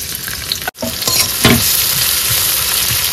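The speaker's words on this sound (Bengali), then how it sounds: "তো একটু ওই মশলাপাতি দিয়ে একটু ভাজা ভাজা করে নেবো" Spices frying in oil for a prawn dish cooked outdoors beside a small Sundarbans creek, a steady close sizzle with a few sharp stirring scrapes and no talk.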